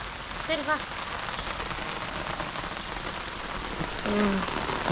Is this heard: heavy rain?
yes